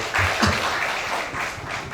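An audience at a talk show about the PSS Sleman football club breaks into applause, a dense, sustained wash of many hands clapping at moderate volume that holds steady throughout.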